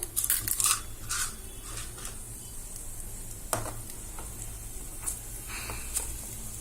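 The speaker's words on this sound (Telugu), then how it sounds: "ఇవన్నీ బాగా వేయించుకోవాలి ఇవన్నీ కొంచెం వేగాలన్నమాట" Urad dal, chana dal and cumin frying in a spoonful of mustard oil for a curd-rice tempering, giving a steady close sizzle with a few sharp scrapes and clicks of stirring, no voices.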